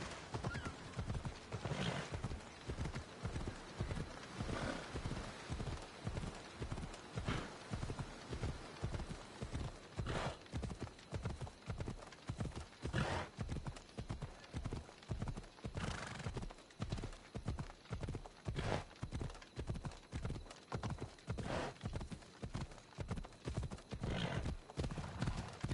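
Hoofbeats of a galloping horse in Assassin's Creed Odyssey, a steady rapid clip-clop rhythm running throughout, with occasional neighs and game ambience behind it.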